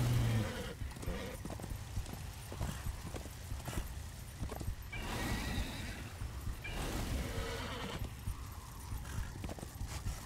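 Steady rhythmic hoofbeats of a galloping horse in the video game Darksiders: Warmastered Edition, close and continuous, with a brief whinny mixed in.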